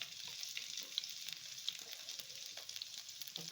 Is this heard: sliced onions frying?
yes